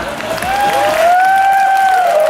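An audience on the stage area of an OTOP regional products fair in Nakhon Phanom, Thailand, cheering for honoured guests, with a drawn-out rising vocal call carried over light clapping and crowd noise.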